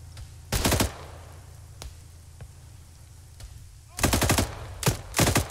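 Bursts of automatic gunfire in Arma 3 during a combined-arms military operation: one short volley early, then a longer string of loud, sharp bursts near the end, with scattered single shots between.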